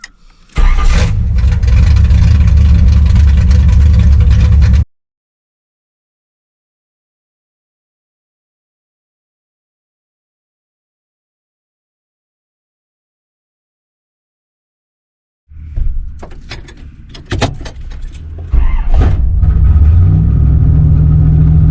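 A 1987 Camaro's carbureted engine runs loudly, cuts to a long silence, then cranks with uneven bursts before catching and settling into a steady, strong run.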